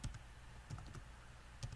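Soft keystrokes on a computer keyboard, a few scattered taps and clicks at low volume in a quiet room, with no talking.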